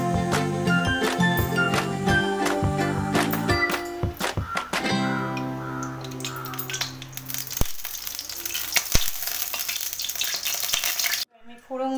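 Bay leaves and broken dried red chillies crackling in hot mustard oil in a kadai, a close, continuous sizzle with a few sharp clinks and pops that drops away abruptly near the end.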